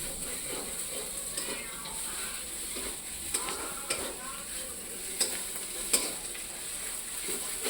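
Meat curry cooks in a pan with a low, quiet sizzle under a faint high whine, punctuated by a handful of light utensil clicks and taps spread through the clip; no speech.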